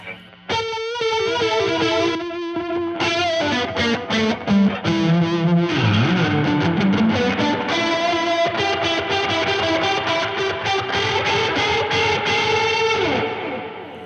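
Electric guitar through a chorus effect pedal, with a shimmering, 80s-style chorus and some grit, playing sustained chords and riffs, loud and continuous without any talking.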